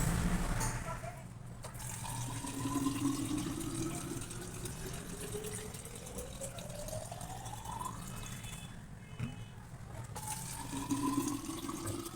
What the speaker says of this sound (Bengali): ছেলে মেয়ে জলের বোতলে জল ভরবো